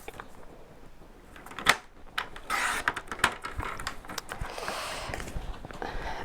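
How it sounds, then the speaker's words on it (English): A paper trimmer cuts half-inch strips from card for a box card, giving a few soft slides and clicks against quiet room tone, with a sharp tap near the start. "from that I'm going to cut 2 half-inch strips"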